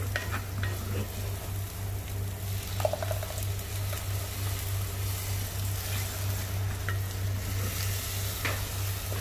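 Crab masala sizzles in a pan as tomato puree goes in, a steady close frying hiss with soft stirring noises and no voices.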